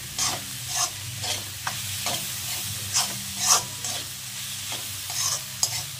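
Vegetables with coriander being stir-fried in a pan, a soft steady sizzle broken by repeated scraping stirs of a spoon against the pan at an uneven rhythm.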